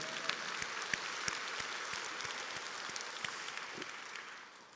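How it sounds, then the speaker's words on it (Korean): A church congregation applauding during a sermon, a faint, distant wash of scattered claps with a few sharper individual hits standing out, steady throughout. "성부, 성자, 성령 삼위일체 하나님께 박수의 영광 돌립시다."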